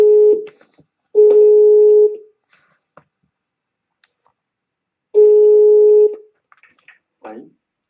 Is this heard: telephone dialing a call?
yes